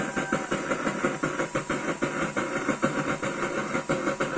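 An oil burner fed through a regulator with autofill and auto shut-off roars continuously with a steady, close, hissing rush, pulsing in a fast, regular flutter throughout.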